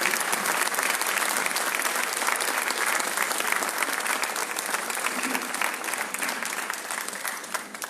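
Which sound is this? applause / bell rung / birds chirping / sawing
applause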